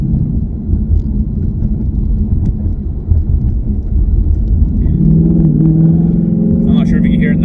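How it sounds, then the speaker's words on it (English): A 2016 Ford Mustang GT S550 engine idles steadily with the clutch in and a low rumble, settling into a smoother, deeper hum partway through, with some faint rattling near the end. "I'll put the clutch in, let it idle down"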